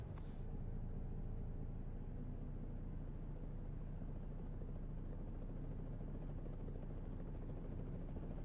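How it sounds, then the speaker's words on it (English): Helicopter passing by in the American Truck Simulator driving game, a steady low rotor drone and engine buzz filling the whole stretch at an even level, with no talk over it. "Got a helicopter out the window."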